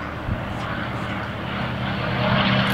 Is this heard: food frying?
no